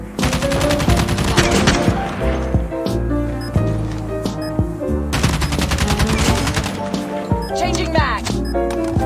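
Rapid automatic fire from an LK24 rifle in Call of Duty Mobile, long loud bursts of shots in quick succession with a brief pause near the middle, under game music and effects.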